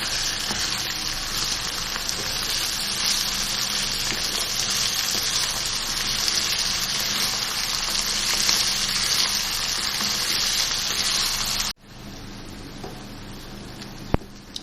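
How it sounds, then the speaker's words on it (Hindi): Minced meat keema with green chillies frying in oil, a steady loud sizzle that cuts off abruptly near the end, followed by quieter kitchen sounds and a sharp clink. "और अब इसकी भुनाई करूँगी।"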